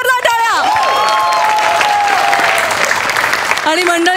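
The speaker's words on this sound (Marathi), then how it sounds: "जोरदार टाळ्या." A studio audience at a Marathi comedy show breaks into loud, sustained applause, with raised voices and a few tonal sounds mixed into the clapping.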